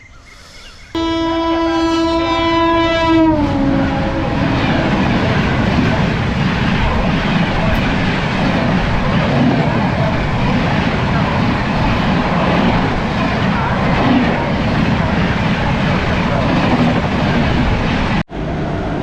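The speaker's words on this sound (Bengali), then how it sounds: "এই জগন্নাথ এক্সপ্রেস হাওড়া যাচ্ছে এটা পুরী থেকে এলো" The Jagannath Express from Puri to Howrah passes close by, its horn blaring at the start before a long, loud, steady rumble of rolling wagons fills the rest.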